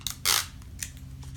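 Packing tape rips off the roll in a quick rasping pull and is pressed onto wrapping around breakable pottery being packed for overseas shipping, close and brief, with a lighter second tear and soft handling noises.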